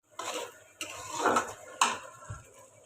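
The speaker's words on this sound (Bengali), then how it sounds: "এখন অনেকক্ষণ ধরে একটু কষাবো।" A blended spice paste is sautéed in a pan, with a utensil scraping and knocking against the metal in several separate close strokes and clinks between quiet pauses.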